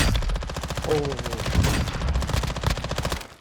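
Rapid bursts of gunfire in Call of Duty: Warzone DMZ, fast repeated shots rattling close and loud across the whole clip, with brief background noise.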